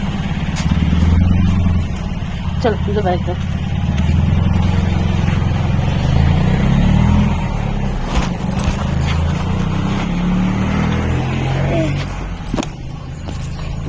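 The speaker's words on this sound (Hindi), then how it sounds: "गाड़ी आ रही है, गाड़ी आ रही है" A car moves along a road with a steady, loud engine rumble that persists throughout, while people talk nearby.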